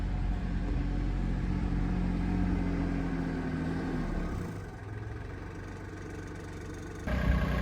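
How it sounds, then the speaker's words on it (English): A tractor idles with a steady low mechanical rumble, drawing nearer at a rural stone house renovation site, its drone dipping briefly before swelling back louder near the end. "the person I'm with is now coming with the tractor so that we can load everything into the back"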